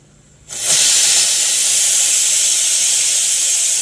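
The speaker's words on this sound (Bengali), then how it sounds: "ওইদিকে বাদাম সিদ্ধ হয়ে গেছে প্রেশার কুকারে সিটি দিচ্ছে" A pressure cooker boiling peanuts lets off steam, a sudden loud, sustained hissing whistle that starts after a quiet moment and keeps going steadily.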